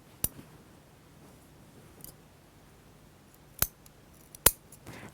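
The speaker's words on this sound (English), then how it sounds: "use the tips of your scissors, which means you can control how far you're going to cut" Scissors snip the curved edges of a dress facing with their tips, giving four sharp, isolated clicks spaced unevenly over a few quiet seconds, close to the microphone.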